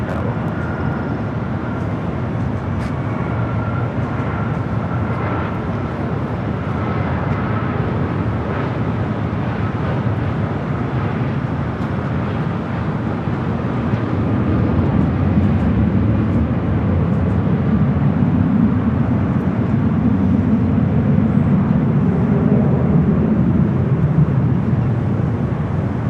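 A heavy jet airliner departing runway 24 Left at LAX, a broad sustained engine roar heard from a distance that swells and deepens as takeoff power builds.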